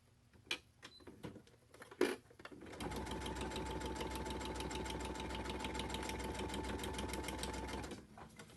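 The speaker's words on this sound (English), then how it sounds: "so now I'm gonna sew those two edges together" A sewing machine stitches two fabric edges together for a paper-pieced heart, running at a steady fast hum with rapid needle chatter for about five seconds after a few short handling clicks and bumps.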